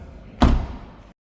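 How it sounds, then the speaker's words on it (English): A rear car door of a 2026 BMW M440i xDrive Gran Coupe being shut, a single close, solid thud with a short damped tail, alone in a quiet setting. "let me shut this door"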